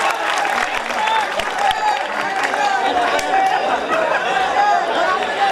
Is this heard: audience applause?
yes